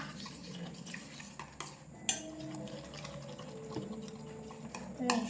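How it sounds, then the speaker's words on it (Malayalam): Spoon stirring yogurt and chili together in a bowl, light clinks and scraping against the bowl with soft wet mixing, quiet and close, a voice talking over it. "ഇതൊക്കെ കൂടി നന്നായിട്ട് നമുക്ക് മിക്സ് ആക്കി കൊടുക്കാം"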